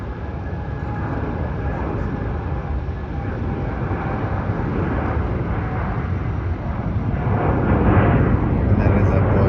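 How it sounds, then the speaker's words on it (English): A Boeing 787 Dreamliner airliner bound for San Francisco at Melbourne airport sends a loud, broad jet-engine roar that swells gradually, steady and powerful, heard from a spotting position nearby. "And that is a Boeing 787 Dreamliner."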